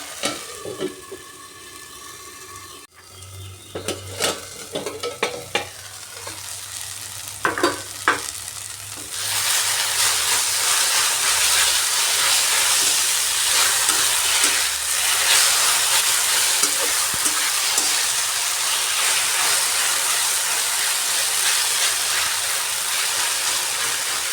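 Sweet potato leaf greens are stirred and spread in a pan. Scraping and clatter come first, then a loud, constant sizzle takes over for the rest, with no voices.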